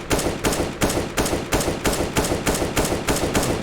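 Rapid bursts of gunfire in the video game CSGO during counter-strafing, loud and close, coming in a steady rhythm of short volleys with brief gaps, no speech.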